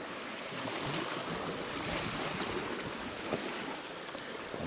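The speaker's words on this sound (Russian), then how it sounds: "Волна поднялась" Continuous wash of Kama River water lapping and churning with wind noise, heard from a boat, fairly quiet and steady, a few light splashes toward the end.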